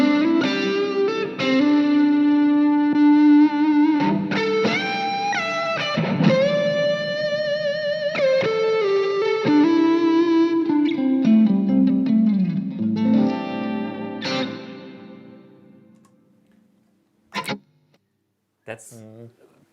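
Electric guitar through a 1970-style reverb effect, with a run of sustained notes and chords trailing into a washy decay, then a few sharp isolated clicks and plucks near the end; no talk.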